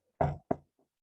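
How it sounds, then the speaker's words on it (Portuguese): Two quick knocks on a door, the first slightly longer, fairly soft and close, then faint small sounds in a quiet room. "Pouco depois, alguém bateu a porta"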